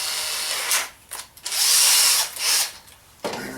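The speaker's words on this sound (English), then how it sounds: "take my drill, put my 1/4" drill bit in" Power drill fitted with a 1/4-inch bit boring into an ammo box, with several loud whirring bursts separated by short pauses as the motor spins up and the bit bites.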